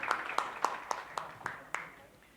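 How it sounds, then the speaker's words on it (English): An audience at a panel discussion on packaging technology gives applause, heard as a string of evenly spaced, moderately faint claps that fade out toward the end. "Let's give them a huge round of applause for this amazing and beautiful panel discussion."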